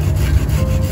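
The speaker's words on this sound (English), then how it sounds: "Now I've gotten down to bigger things that require a handsaw to cut." A handsaw rasps through a bush honeysuckle branch in a quick, close burst of gritty strokes on wood.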